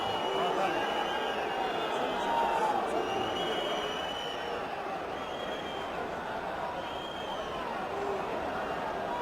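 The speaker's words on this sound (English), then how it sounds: "That's the reaction of the crowd." Rugby match crowd at Toulon versus Montpellier, a broad distant murmur of many voices swelling and settling throughout, with commentary voices over it.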